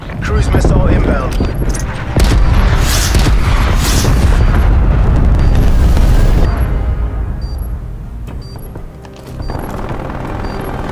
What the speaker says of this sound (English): Cruise missile inbound.